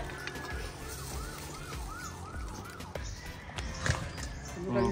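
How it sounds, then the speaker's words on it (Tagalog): A fire truck siren wails faintly in the distance with a rising and falling tone, heard under household background noise and some speech. "Fire truck."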